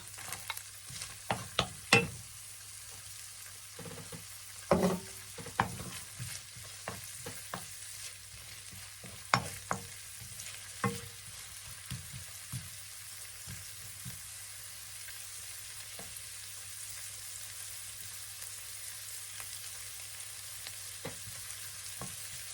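Garlic fries for garlic rice in a quiet, steady sizzle, broken by irregular spatula scrapes and stirring clatter, most of them early on and thinning out later, with no voices.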